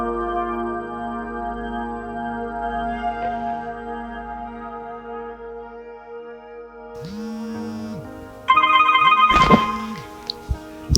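A telephone rings in a tense indoor film scene, the tone sounding briefly late in the clip over a sustained musical score.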